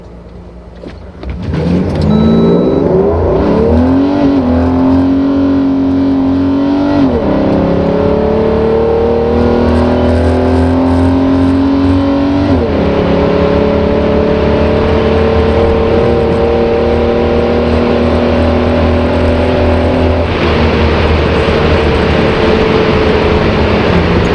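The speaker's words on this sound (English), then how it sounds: "So let's do an acceleration test in my 119 V12." A Mercedes 190E with a swapped-in V12 engine accelerates hard at full throttle on summer tires, its loud engine note rising steadily through several gear changes, close to the microphone.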